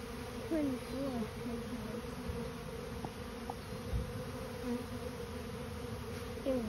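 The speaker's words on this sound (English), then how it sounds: "Daddy, you can see the march of the bees on this video" A dense, steady buzzing of a honeybee swarm close by as it enters a bait hive, with occasional louder individual passes and faint human voices in the background.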